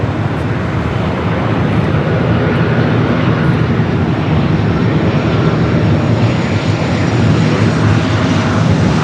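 An airliner's engines roar at LAX airport, a loud, steady, broadband rumble that holds for the whole stretch without any voices over it.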